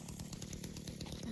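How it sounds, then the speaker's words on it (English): A chainsaw in the video game DOOM revs with a rapid, buzzing, pulsing drone, mid-distance and fairly steady throughout. "I hear the chainsaw over here"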